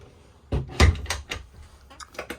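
A large wardrobe door with a hanging rail inside a Bailey Alliance 66-2 caravan washroom is opened or closed nearby, giving a couple of soft wooden knocks and thumps followed by lighter clicks, with no talking.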